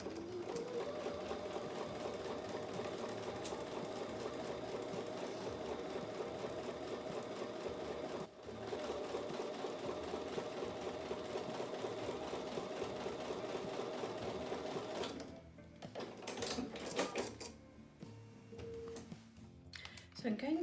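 A home sewing machine runs a steady, fast stitching whir while joining a quarter-inch seam on a quilt block, then slows and stops near the end with a few short bursts and soft handling clatter; nobody speaks.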